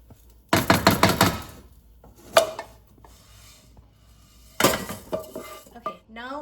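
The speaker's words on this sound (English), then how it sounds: "So now we are going to remove it into the same bowl as the fried chana dal." Fried urad dal scraped from a pan into a bowl of fried chana dal, giving bursts of close metallic clatter and scraping with a few sharp clinks and quieter pauses between.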